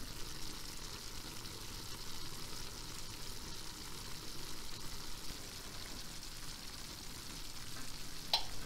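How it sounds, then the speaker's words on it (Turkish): Eggplant tava frying in a pan inside a stone oven, a steady, even sizzle and crackle that continues unbroken and fairly quiet, with no voices. "Çok güzel pişiyor tavamız."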